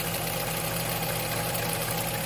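A Nissan X-Trail T31 engine runs steadily after overheating, a loud continuous mechanical hum and rattle heard up close, with no talking.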